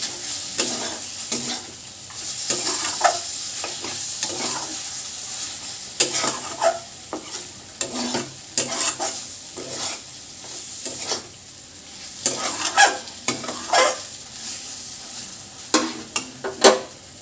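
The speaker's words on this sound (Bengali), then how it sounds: "আমাদের মশলাটা কষানো হয়ে গেছে, কিমাটা ওর মধ্যে ভালো করে ভাজা হয়ে গেছে।" Mutton keema frying with spices in a pan, with a low continuous sizzle beneath irregular scraping and clattering strokes as it is stirred over and over, alone and fairly quiet.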